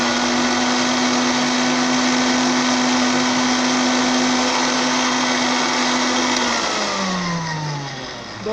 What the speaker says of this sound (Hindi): मेरे पास ये इस ब्लेंडर के अंदर भी स्पीड अच्छी है, जिस तरह मैं इसी में पीस लूँ।